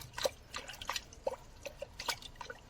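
Tidal water flowing over into a mangrove forest produces faint, irregular drips and small splashes against a low watery background. No one speaks.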